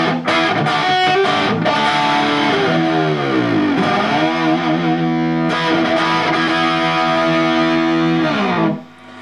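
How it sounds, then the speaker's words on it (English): An electric guitar, a DIY Frankenstrat-style build, plays through a Marshall-style vintage modern amp head set to high gain, giving loud, thick, distorted chords that ring and sustain for several seconds before cutting off. "But this is the amount of gain we've got."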